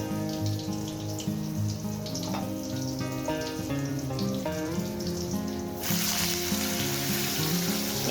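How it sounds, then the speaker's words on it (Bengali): Black cumin seeds tossed into hot oil in a pan for a Bengali prawn and okra curry, a soft steady sizzle under louder background music, growing brighter and hissier toward the end. "এখানে আমি তেলের ওপরে একটু কালো জিরে দিয়ে"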